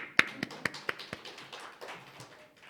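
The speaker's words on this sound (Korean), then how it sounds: "다시 박수" A church congregation claps hands during a sermon: a few sharp, separated claps in an uneven rhythm, then a softer scattering of taps that fades out, with no voices.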